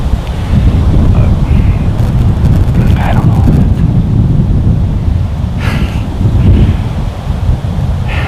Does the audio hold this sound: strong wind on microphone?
yes